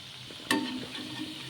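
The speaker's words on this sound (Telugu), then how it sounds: "ఇలా కలర్ చేంజ్ అయ్యే వరకు వేయించుకోవాలండి" Peanut and rice vadas frying in hot oil, a brief close sizzle with a sudden sharp crackle burst partway through, then a softer steady bubbling.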